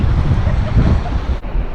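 Ocean waves at Peggy's Cove, Nova Scotia, roaring steadily and loudly close by, mixed with heavy wind noise across the microphone.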